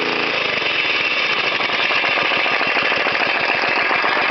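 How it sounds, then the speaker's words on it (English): A go-kart engine at full throttle roars loud and close, then its pitch drops into a rough, pulsing chug as the revs fall away. "I'll give it a little bit of a rev for you. Full throttle, baby."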